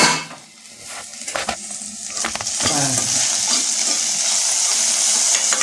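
Okra poriyal in a pan with the lid lifted, a few clatters and stirring scrapes giving way to a strong, steady frying sizzle.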